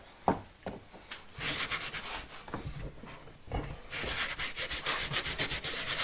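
A nail brush scrubs a stain on Porsche Cayenne upholstery with detergent stain-remover soap, giving close, quiet rhythmic rubbing strokes that speed up into a fast back-and-forth scrub near the end.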